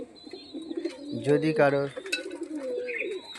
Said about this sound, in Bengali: আমার এই পায়রার ফার্ম। পায়রাগুলি দেখছেন